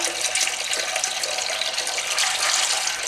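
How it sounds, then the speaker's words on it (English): Water runs steadily from a tap into a sink holding homemade washing up liquid, a continuous hissing, splashing stream with no pauses and no voices. "how the washing up liquid is when it goes into the"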